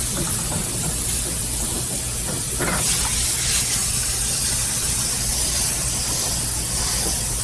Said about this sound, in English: But this is my steamer.